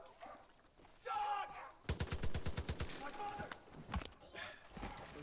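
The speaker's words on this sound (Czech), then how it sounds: "A tam se střílí, aha. Tak tam asi někdo klade odpor." Rapid burst of automatic gunfire in the video game Far Cry 5, a quick string of about a dozen sharp shots in under a second, fairly quiet and set among other faint in-game sounds.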